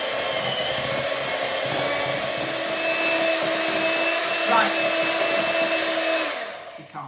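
An electric mixer whirs steadily and loudly through brownie batter, a constant droning hum that holds for several seconds before winding down at the end, with a faint voice barely audible beneath it.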